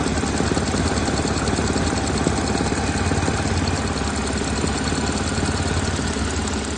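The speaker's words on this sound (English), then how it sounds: "he's saying not the ticking noise, but the thumping noise." Volkswagen/Audi engine idling steadily, with a fast ticking and a heavier rhythmic thumping under the steady hum, close and continuous throughout.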